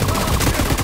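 Sustained automatic gunfire in The Division 2's Dark Zone, a loud, dense stream of rapid shots filling the whole short moment.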